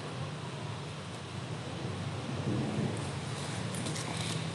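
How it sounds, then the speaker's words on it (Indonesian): Steady rain falling on a university campus, a dense even hiss with low rumbling underneath, swelling slightly louder toward the end, heard alone without talk. "lagi ada di kampus dan lagi nunggu hujan reda"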